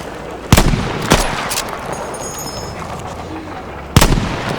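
Sniper gunfire in the Battlefield V video game: three loud, sharp shots at irregular gaps over a rumbling battlefield background, with a voice faintly present.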